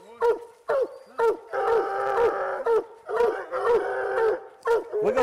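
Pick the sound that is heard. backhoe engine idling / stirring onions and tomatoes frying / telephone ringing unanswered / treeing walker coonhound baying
treeing walker coonhound baying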